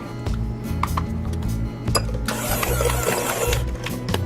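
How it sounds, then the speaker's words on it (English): Butter for pumpkin cookies being creamed with an electric mixer, a loud continuous motor whir with rhythmic pulsing, the beaters rattling against the bowl and a brighter grinding burst partway through, close up with no talking. "The next thing you'll need to do is cream your butter"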